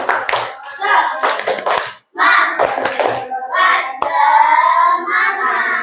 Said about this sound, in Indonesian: Tepuk semangat lagi bisa.